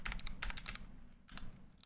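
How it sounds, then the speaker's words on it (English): Typing on a Commodore 64 style keyboard, with bursts of quick clacking keystrokes, a short pause, then another brief flurry, close and fairly quiet. "you said it's like the old Commodore 64 keyboard. Sounds the same too"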